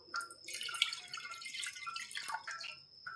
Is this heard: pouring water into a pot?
yes